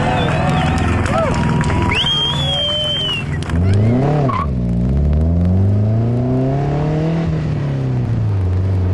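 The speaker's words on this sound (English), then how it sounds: "The Impreza WRX needs no introduction, but it's just nice to see that four-wheel drive burnouts are possible." A Subaru Impreza WRX doing a four-wheel drive burnout, engine revving hard in rising and falling sweeps with tire squeal, loud and close; a voice talks over the start.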